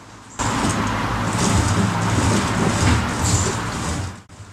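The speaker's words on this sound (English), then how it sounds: "you could still hear the crunching of the dirt" A dirty motorized bicycle wheel with mud packed into its bearings spins, giving a steady, close, gritty crunching rumble that starts abruptly and runs for about four seconds before stopping.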